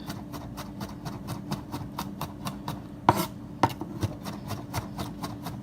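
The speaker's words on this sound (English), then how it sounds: "you want to chop this up really well" A knife chops food on a cutting board during Chinese dinner prep, making quick, even taps at about four per second, close and clear, with two louder knocks partway through.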